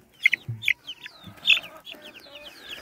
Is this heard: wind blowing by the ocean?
no